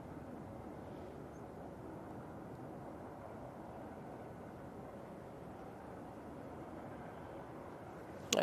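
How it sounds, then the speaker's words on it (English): An airliner taxiing at windy Manchester Airport, a broad steady engine rumble and hiss heard from a distance, constant throughout with a brief sharp knock at the end, no talking. "There you go, Lingus A380 making its way down to the bottom."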